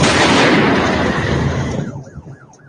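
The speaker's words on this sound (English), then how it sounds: "Sounds like more than one explosion." Several explosions at Iran's aviation and space headquarters make a loud sustained roar of overlapping blasts that fades out, leaving wailing sirens cycling faintly at the end.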